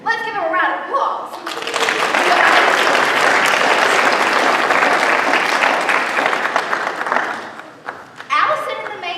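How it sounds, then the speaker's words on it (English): An audience bursts into loud, sustained applause after a performance, the clapping swelling from about two seconds and holding steady before tapering, with a speaking voice briefly at the start and end. "Let's give them a round of applause."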